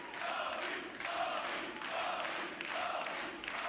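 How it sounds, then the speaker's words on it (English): Arena crowd at a professional darts tournament, the European Darts Open, roaring and cheering in a steady, dense wash of voices with rhythmic swells, loud and continuous throughout. "Crowd doing their best to play their part."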